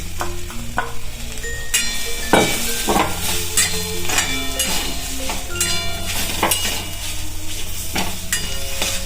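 Beetroot ladoo mixture with cashew and almond powder stirred in a pan over a low gas flame, with continuous scraping and clinking of the spoon against the pan under a gentle sizzle, close and fairly loud.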